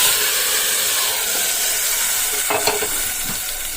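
Fried tempering poured into a pot of Kerala-style curry, giving a steady hiss and sizzle with a brief louder crackle partway through.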